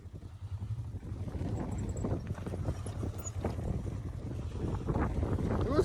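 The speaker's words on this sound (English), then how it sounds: "it's getting windy again" Low, gusty wind rumbles and buffets the microphone continuously outdoors at the King of the Hammers off-road race, building slightly louder toward the end, with faint thuds mixed in.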